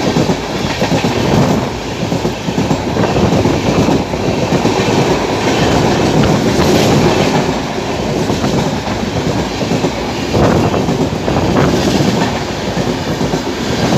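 The Gorakhpur-Hyderabad Express passing close by, a loud sustained roar of rolling coaches with steady clickety-clack of wheels over rail joints and no talking.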